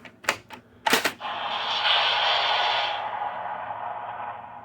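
Electronic sound effects from a Masters of the Universe CGI Castle Grayskull toy: two sharp zapping bursts, then a sustained bright whooshing energy tone that fades after a few seconds, loud and close with no talking.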